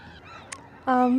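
Seabirds at a Bay Area pier give harsh, nasal honking calls: a short squawk, then a louder sustained cry near the end. The calls are close and fairly loud, with outdoor background and no clear speech.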